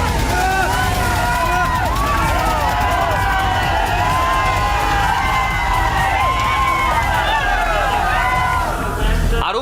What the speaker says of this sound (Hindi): पुलिस ने उन्हें रोकने की कोशिश की तो लोगों की भीड़ ट्रैक्टर लेकर आई और बैरिकेड्स उड़ाते हुए चल दिए